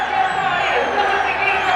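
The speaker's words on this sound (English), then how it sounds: "The Nepali fans, they're cheering." Nepali fans at a Nepal vs India football penalty shootout keep up a steady, dense roar of crowd cheering for the full stretch, loud and continuous with no single voice standing out.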